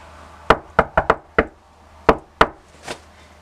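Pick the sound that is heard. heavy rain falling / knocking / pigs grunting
knocking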